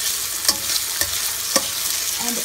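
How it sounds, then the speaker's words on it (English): Sabudana khichadi cooks in a pan with a constant close sizzle. Three evenly spaced spoon scrapes cut through it as it is stirred, and there is no talking. "You really need to stir it well while cooking."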